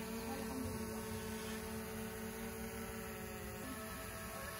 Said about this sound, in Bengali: ফাইনালি দেখি ড্রোনটা ফ্লাই হয়